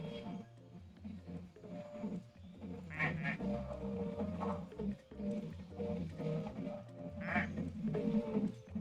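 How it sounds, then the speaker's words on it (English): Ducks quack in a video game as baby ducks appear, faint repeated calls mixed under game music and background sound. "The duck just reproduced. There are baby ducks."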